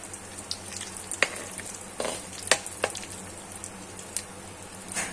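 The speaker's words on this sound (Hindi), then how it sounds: "ये जीरा हमारा लाल हो रहा है हमारी हींग हो गई" Cumin seeds and asafoetida fry in a little oil with a low, steady sizzle, broken by several sharp pops and a few faint ladle taps; no talking.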